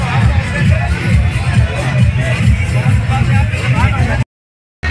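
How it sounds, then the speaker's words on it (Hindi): Dense crowd at a Bharat Milap procession in Amethi, a loud continuous wash of voices and general commotion that stops abruptly for a moment near the end. "भीड़ चक करो यार यहाँ की"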